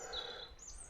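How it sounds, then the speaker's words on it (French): Birds sing in woodland along a hiking trail on the GRP de la Xaintrie Blanche in May, faint high chirps and whistles over a quiet background for about a second. "le chant des oiseaux"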